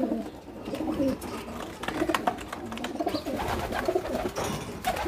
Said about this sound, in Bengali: নতুন অবস্থায় অনেকটাই ভয় পাচ্ছে কবুতর,